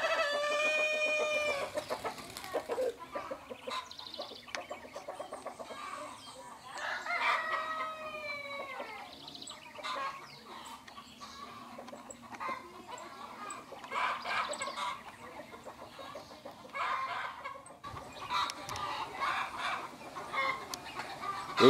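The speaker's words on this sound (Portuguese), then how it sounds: "Fazendo graça lá com a galinha, paquerando ela." On a countryside smallholding a rooster crows and chickens cluck while the rooster courts a hen, moderately close, with intermittent calls over a quiet farmyard background and faint voices at times.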